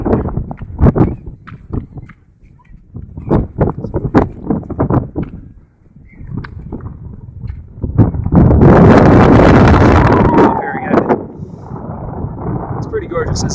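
Strong wind buffets a microphone on an open hilltop, roaring in gusts that swell loudest midway, with someone talking and the sound of footsteps between bursts.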